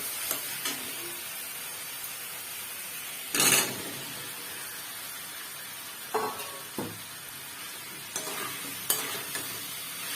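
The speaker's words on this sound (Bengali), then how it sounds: "এবার আমি ওল আর আলু ভাজাটা এর মধ্যে দিয়ে একটু মিশিয়ে নেব।" Fried elephant foot yam and potato stirred into a cooked spice paste in a pan, a quiet low sizzle broken by several sharp scraping bursts of the spoon, close and without talk.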